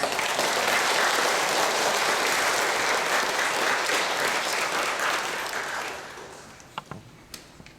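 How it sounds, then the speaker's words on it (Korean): Sustained audience applause at a Catholic parish church mission lecture greets a guest speaker, a dense wash of many hands clapping that holds steady, then thins and dies away into a few scattered last claps. "박수로 환영해 주시기 바랍니다"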